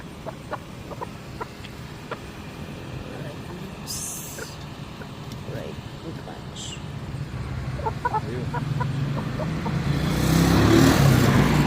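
Chickens cluck in short bursts amid a busy outdoor din, with people talking nearby and a vehicle rumbling louder toward the end.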